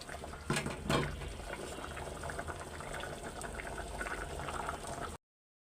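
Mustard greens bubble steadily as they boil in a pot, with a couple of louder splashy surges early on before the rolling boil settles into a constant, close churning. No one speaks.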